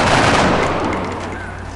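Gunfire in XCOM: Enemy Unknown: a dense, loud burst of automatic shots that fades slightly over a couple of seconds, with no talk over it.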